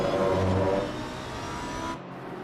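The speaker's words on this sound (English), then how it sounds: "it's still an awesome sound the Audi and the Lambos make" Audi and Lamborghini race car engines wail in a sim racing endurance game at Misano, a loud sustained drone with harmonic whine that drops slightly in pitch midway, then cuts off into a quieter engine tone near the end.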